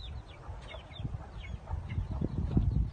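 Chickens and fighting roosters clucking at a rural Thai farm, a few scattered calls over a steady low rumble of background noise, moderately near and fairly quiet.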